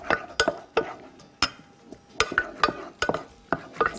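Food being stirred in a cooking pot at home, a utensil scraping and knocking against the pot in irregular sharp clinks and scrapes, close and fairly quiet with no talking.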